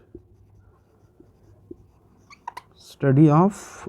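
Pen writing on a surface during a pharmacology lecture, a few soft scratchy strokes and taps in quiet, followed by a voice speaking.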